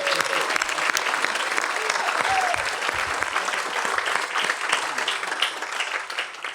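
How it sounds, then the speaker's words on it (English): Dinner guests at an NAACP Freedom Fund dinner break into steady, loud applause that fills the room for the whole stretch, with a few voices murmuring underneath. "we also need to clap for Cliff"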